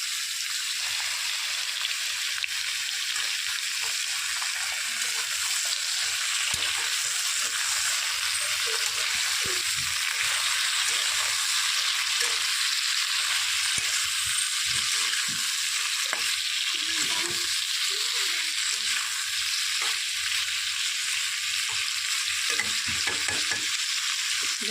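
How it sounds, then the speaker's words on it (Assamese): Pointed gourd and potato fry in oil with salt and turmeric over a gas flame, giving a steady, close hiss of sizzling with scraping stir sounds throughout, and no talking. "এতিয়া অলপ ঢাকি ৰাখি পটলখিনি মই ভাজি নমাই লৈছোঁ।"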